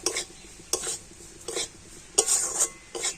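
Spoon stirring and scraping through ingredients frying in a pan with salt and sugar, in several distinct bursts of metallic scraping with faint sizzling between them.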